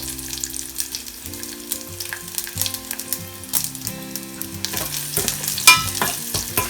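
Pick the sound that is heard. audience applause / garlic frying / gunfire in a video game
garlic frying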